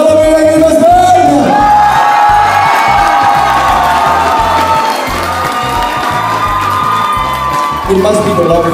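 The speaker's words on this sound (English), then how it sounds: "let's hear your applause" Lively crowd at a Red Indian themed best dress awards party cheering, whooping and shouting over loud pounding dance music with a heavy regular beat, with applause mixed in.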